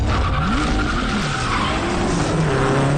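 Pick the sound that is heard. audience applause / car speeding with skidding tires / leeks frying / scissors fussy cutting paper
car speeding with skidding tires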